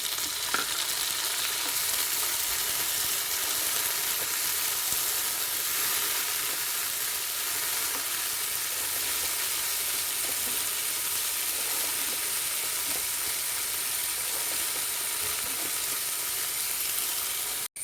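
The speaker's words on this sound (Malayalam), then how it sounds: "തക്കാളി നന്നായിട്ട് വഴന്ന് വന്നിട്ടുണ്ട്" Onions, green chillies and tomatoes sizzle steadily in a pan while being sautéed for a Kerala-style mushroom biryani, a continuous close frying hiss with occasional stirring and no talk.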